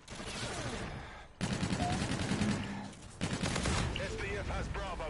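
Bombardment killstreak in Call of Duty: Infinite Warfare, a loud continuous barrage of explosions and rapid gunfire, dense and close, broken by two brief drops before the blasts resume, with faint voices.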